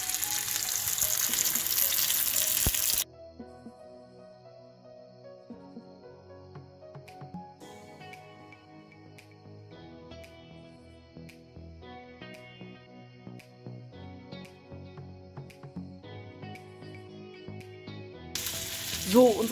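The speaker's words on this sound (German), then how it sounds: "Das wird jetzt rundherum scharf angebraten." A herb-crusted meat fillet sears all around in a hot pan for a German home-cooking dish. Loud, dense sizzling opens and closes the passage, with a quieter stretch between of soft crackles and light clinks.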